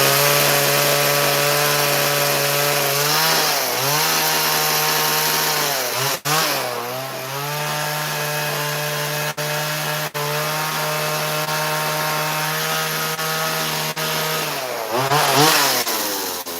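A chainsaw rips lengthwise through wood, its engine holding a steady loud whine under load, dipping briefly several times as the cut bogs or the saw shifts, then revving up again near the end.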